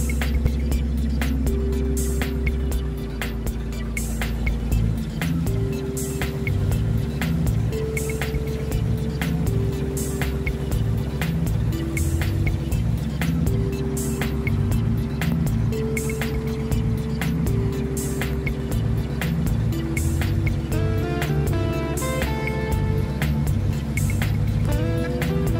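A heavy truck rides aboard a river ferry on the Madeira–Amazon route toward Manaus, with a steady low engine drone, rhythmic clanking and mechanical hum running throughout, loud and close with no voices.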